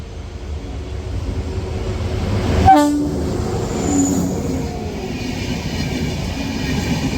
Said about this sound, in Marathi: हे बघा ट्रेन देखील येते